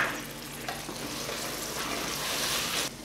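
Washed mint leaves going into hot oil for chicken biryani in a pressure cooker, giving a steady broadband sizzle and frying hiss close by that swells slightly toward the end before dropping off, with no talk.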